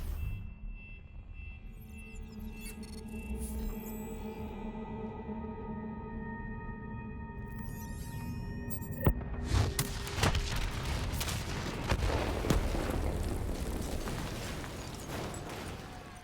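A detonation in the shooter game Call of Duty: Black Ops 3, with a tense tonal drone and mechanical hum leading into a sudden loud boom, followed by a rumbling run of crackling blasts and debris.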